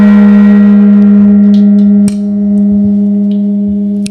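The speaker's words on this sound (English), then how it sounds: "It's a really good, like, handmade gong from steel or whatever they used to make it." A handmade steel gong rings with a sustained, humming drone; a second strike lands midway and refreshes the resonance, which swells and shimmers without any voices.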